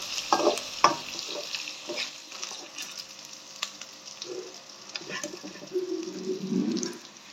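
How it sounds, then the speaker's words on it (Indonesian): Salted squid frying briefly in a hot pan, crackling and sizzling with spatters and occasional stirring scrapes, close and fairly loud throughout with no voices. "Untuk cuminya juga sama ya, kita goreng sebentar."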